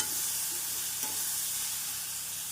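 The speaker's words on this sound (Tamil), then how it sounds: "கொண்டைக்கடலையை சேர்த்து நம் ஹை ஃப்ளேமில் நன்றாக கிளற வேண்டும்" Diced raw mango and boiled chickpeas sizzle loudly in a pan over high flame while being stirred, a steady, dense frying hiss with a faint scrape.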